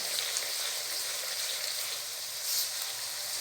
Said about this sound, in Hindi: नमक मिर्च के साथ हमने इसको भून लिया और इसका ऑयल देखिए सारा ऊपर आ गया